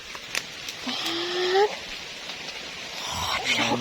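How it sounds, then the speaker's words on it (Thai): Rain falling in a forest along a stream, a steady hiss of drops with brief rising calls and faint voices mixed in. "ฝนกระตก"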